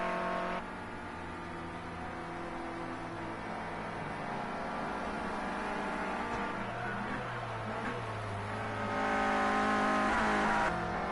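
A Renault Clio Cup race car revs steadily on a circuit during qualifying, its engine note holding high and fairly distant before swelling louder toward the end.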